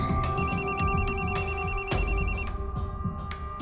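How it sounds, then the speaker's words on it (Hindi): A phone rings on speakerphone while calling a doctor, a repeating warbling electronic ringtone pulsing over a steady background hum for a few seconds before fading out, with no one talking. "तेरे डॉक्टर को फोन कर"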